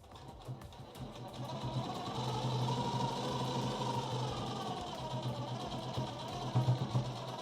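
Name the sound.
sewing machine stitching a sequin blouse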